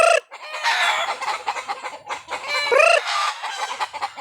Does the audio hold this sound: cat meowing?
no